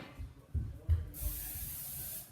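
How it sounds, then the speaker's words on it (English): A short, sharp hiss of cooking spray sprayed into a pan, starting after a few soft clunks and lasting about a second, close by. "you're just going to spray them with some cooking spray"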